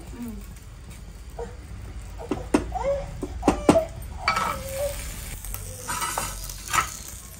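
Semiya payasam of vermicelli in milk with dry fruits bubbling in a pot, soft gurgling and stirring scrapes over a steady low simmer, with occasional clinks and brief voices nearby.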